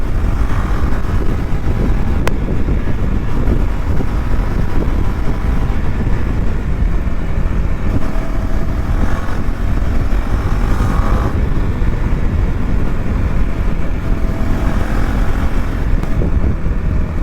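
A Yamaha RX 100 two-stroke motorcycle revs hard during a burnout. It makes a loud, unbroken, rasping engine roar close to the listener, steady throughout with no voices over it.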